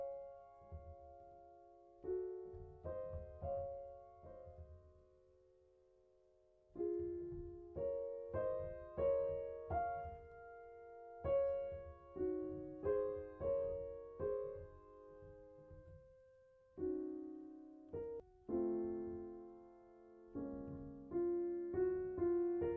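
Solo piano plays Clair de Lune without sustain pedal: phrases of separate chords and melody notes, each decaying dry and quickly, with short silent pauses between phrases; no talking.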